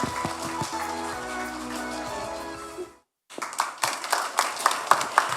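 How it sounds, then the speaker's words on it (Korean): Audience applause welcoming an author at a book talk show, coming in after a brief gap as scattered, uneven claps that rise and fall while music fades out before it. "여러분 박수 부탁드립니다."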